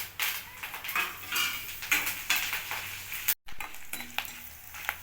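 Oil heating and sizzling in a pan with stirring and utensil clinks while preparing a vegetarian mutton-style fry, a steady broadband hiss with a brief cut partway through.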